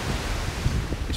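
Sea waves at a beach in Costa Mesa, a continuous broad wash of surf mixed with wind buffeting the microphone, fairly loud and steady, no voices.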